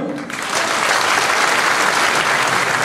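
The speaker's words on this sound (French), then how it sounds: "Merci de les applaudir." Dense, steady applause from an audience at a New Year's wishes evening, starting abruptly after a brief moment and holding loud and even through to the end.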